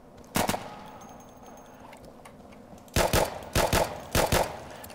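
A handgun in the Insurgency shooter fires one sharp shot, then after a pause empties the magazine in quick paired shots, each crack loud and close against a quiet background.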